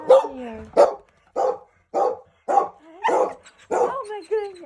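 A puppy barks in a run of about eight sharp, high yips and short barks at a steady pace close to the microphone, a few trailing into whimpering whines.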